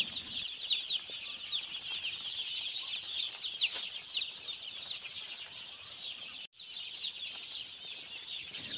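Dense, steady chorus of chicken chirps and clucks from a crowd of birds, with high chattering throughout and no talking.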